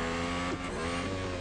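Ferrari race car engine in the Real Racing 3 video game, a steady, loud high-pitched engine drone that holds nearly constant pitch with a slight dip midway, no talk over it.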